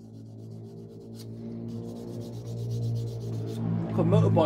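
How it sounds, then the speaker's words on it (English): Steady rough rubbing of sandpaper against the edges of a die-cast Corgi Bedford tractor unit model, a continuous rasping scrape that grows louder toward the end. "hopefully we can get rid of using a bit of sanding paper"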